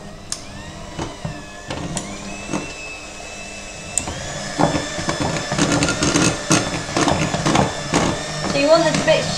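An electric mixer whirs through a soft Viennese whirls mixture, its motor hum rising and steadying, with clinks against the bowl, while a person talks over it.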